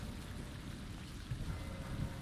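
Steady rain from the video game Crysis 2, a dense even hiss of falling drops with low rumbling underneath, continuous and fairly loud with no voices over it.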